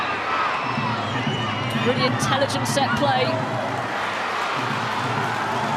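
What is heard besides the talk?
stadium crowd cheering after a goal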